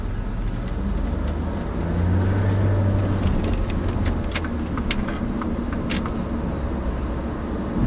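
A 2004 Saab 9-3 Arc 2.0T is being driven, giving a continuous close engine and road rumble with light clicks and rattles scattered over it, and no talking.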